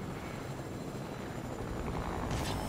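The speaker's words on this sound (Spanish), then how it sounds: "Hay un pinche helicóptero ahí, ¿ya viste?" A helicopter in the Fortnite video game, a steady distant rotor drone with a faint engine whine, holding at an even level before a brief brighter burst of noise near the end, no talk over it.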